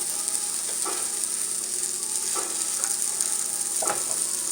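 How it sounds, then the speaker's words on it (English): Butter sizzling in a pan of already-softened sautéed vegetables, ready for scrambled eggs: a steady bright hiss runs throughout, with a few soft scrapes of stirring. "Put a little bit of butter in here."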